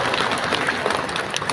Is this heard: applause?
yes